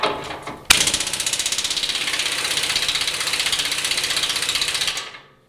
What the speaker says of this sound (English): I can't get the wrench in there, but let's just try the